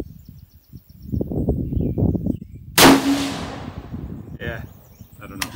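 A single loud gunshot from a lightweight AR-style rifle firing 6.5 Grendel rounds outdoors, a sharp crack trailing into a long fading echo, with someone talking before it and faint clicks afterward.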